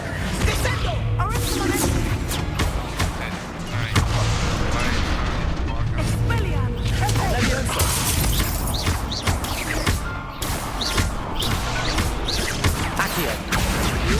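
Descendo spell cast during a wizard-duel video game, a burst of magical impact amid continuous loud crashing, booming and shattering effects, with voices shouting spell names through the dense battle din.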